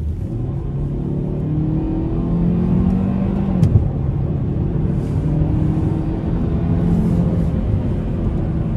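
A 2025 Hyundai Sonata with a 2.5-litre four-cylinder accelerates hard in sport mode, engine note rising through the revs, dropping at a gear change, then climbing again, heard loud and close from inside the cabin.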